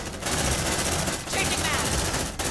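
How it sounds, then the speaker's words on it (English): A sentry gun fires in the video game Aliens: Dark Descent, rapid automatic bursts separated by brief gaps, loud and close. "Deploying sentry gun!"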